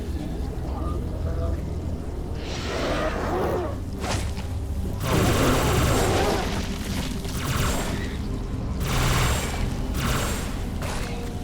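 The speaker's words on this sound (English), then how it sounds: "That's one fire flood hitting you." In the Halo 3 remake mod, a fire flood attack hits the player with rumbling booms and whooshing bursts in repeated waves, loud and dense, under some in-game noise.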